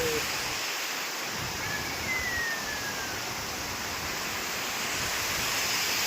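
A waterfall on the trail up Harihar Fort gives a steady, broad rushing roar that fills the whole clip evenly, with no voices over it.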